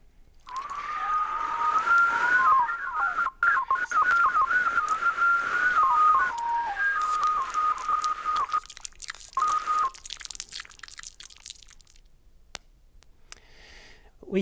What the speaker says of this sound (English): we can whistle, or in my case, fail to whistle into it.